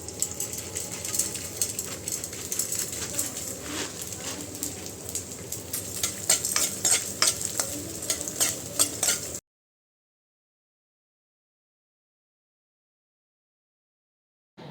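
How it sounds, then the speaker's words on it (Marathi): Edible gum (dink) fries in a pan for nutritious laddus in a home kitchen, giving a steady crackling sizzle dotted with light utensil clinks for about nine seconds before the sound cuts to silence. "आता मी तळायला उभी आहे तर डिंक तळायला घेतलेलं आहे"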